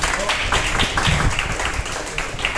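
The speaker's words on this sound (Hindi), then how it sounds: "जोरदार तालियां होनी चाहिए इसके लिए।" Audience at a gathering applauding in a brief burst of crowded clapping that stays steady and moderately close.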